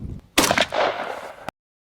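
A single loud shotgun blast from an SA 28 fitted with a .520 Indian Creek choke, fired at a turkey pattern target outdoors, hits sharply and rings briefly before cutting off into silence.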